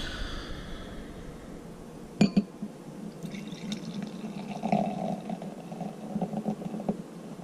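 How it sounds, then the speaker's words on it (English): Orange vanilla cream ale pours steadily into a glass from a bottle with a gentle gurgle and fizz after a couple of clinks, continuing quietly for several seconds. "We will do a pour."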